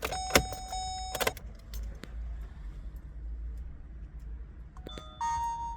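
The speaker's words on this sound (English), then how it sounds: "And you can hear the chime." Electronic chime from a hardwired Mangoal dash cam as the car ignition switches on, short bright tones ringing out in a quiet cabin with a few clicks and a low engine rumble beneath.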